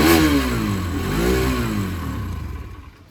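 A Hero Xtreme 160R motorcycle engine is revved up and eased back off twice, its note rising and falling. Close and loud at first, it fades toward the end, with no talk over it.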